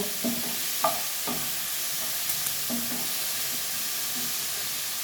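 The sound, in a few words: stirring turmeric into frying mushroom masala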